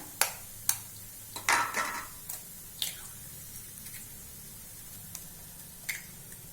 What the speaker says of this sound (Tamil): இப்போ முட்டையை உடச்சி ஊற்றுறேன்